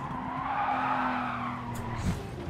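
Car tyres squeal and skid in the Gran Turismo Sport racing game on PS5 at Bathurst, a sustained screech over engine drone that fades out, followed by a brief bump.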